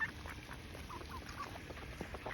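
Ducks quacking in short bursts at close range while being fed bird food, over a steady outdoor hiss.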